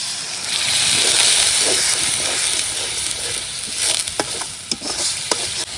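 Water hits fried onions and garlic in a hot pan, setting off a loud, sustained hiss and sizzle that then settles into steady bubbling crackle, with brief stirring clicks near the end.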